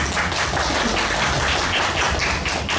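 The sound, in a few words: audience applause for panel speakers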